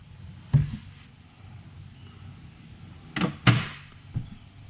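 Door of a Set Power AJ40 portable fridge on a truck slide-out opening, heard as a few short knocks and clunks spread over several seconds, moderately close with quiet gaps between.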